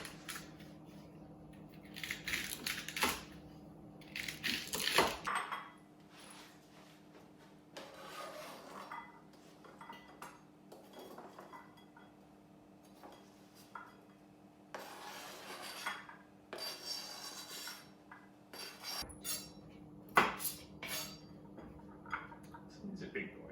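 Onions chopped with a knife on a board for French onion soup: irregular, close rasping cuts and knocks, sometimes in quick bursts and sometimes sparse, with a steady low hum underneath.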